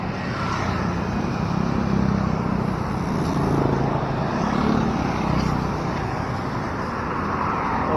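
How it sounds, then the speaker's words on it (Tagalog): Dense city street traffic, many vehicles producing a continuous, fairly loud roadway roar that swells and eases over several seconds, with no voices. "Dami naman sasakyan dito."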